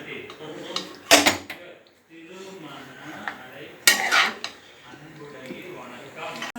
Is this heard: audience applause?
no